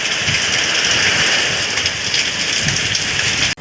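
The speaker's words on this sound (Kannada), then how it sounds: "ಹಾಗೆ ತುಂಬ ಮಳೆ ಬರ್ತಿದೆ, ಹೆವಿ ರೈನ್ಫಾಲ್ ಇದೆ" Heavy rainfall drums down in a loud, dense, unbroken hiss of drops striking surfaces close by, with no voices over it.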